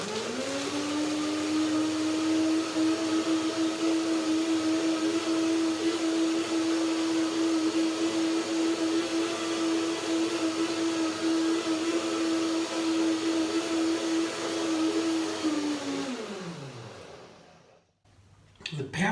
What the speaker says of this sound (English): A little bit of water is enough to start the blender dance.